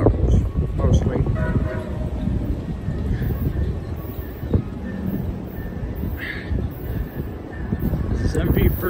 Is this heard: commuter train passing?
yes